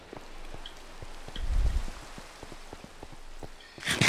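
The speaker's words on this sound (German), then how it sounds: "Also, Regen ist ja fürchterlich." Rain falls in the Minecraft video game, with scattered drop-like ticks over a soft hiss and a brief low thump partway through.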